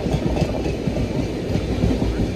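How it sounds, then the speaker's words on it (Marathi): The Pataliputra Express passenger train runs on its rails, heard from a seat on board. A loud, continuous low rumble carries rhythmic clickety-clack wheel beats, with no talking. "पाटलीपुत्रा एक्सप्रेस आता ट्रेनमध्ये बसलोय आणि निघालोय प्रयागराज कुंभसाठी."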